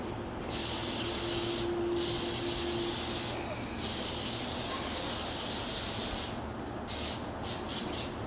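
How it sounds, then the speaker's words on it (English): Steady hissing spray from an aerosol can of butter-flavored non-stick cooking spray onto bread, one long continuous burst with a few short breaks, close up and fairly loud. "Again, I use my non-stick spray."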